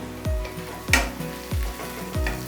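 Deep-fried mushrooms and capsicum are stirred in a pan, with a frying sizzle broken by four evenly spaced thuds and scrapes of the spoon, close up and with no speech.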